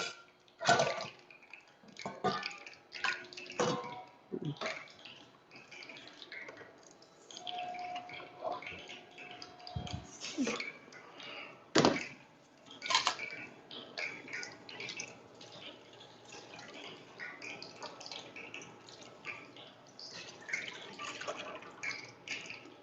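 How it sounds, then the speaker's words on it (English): Beef stock for Lanzhou ramen soup being poured through a fine strainer, with irregular drips, splashes and trickles of liquid over a steady wet background, close and moderately loud. "Now I want to strain out the stock and season the stock."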